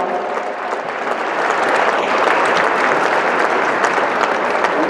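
A large audience at the opening ceremony of the Second Asian Yoga Sports Championship applauds, a loud, even wash of clapping that holds steady throughout.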